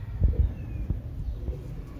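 A Sialkot female pigeon coos in a few soft, low pulses close by, with faint background hum and no talking.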